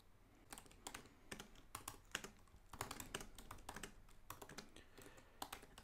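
Steady typing on a computer keyboard, entering an update command on an Ubuntu 20.04 server running in Hyper-V: quick, irregular clusters of close key clicks with short pauses, no voices.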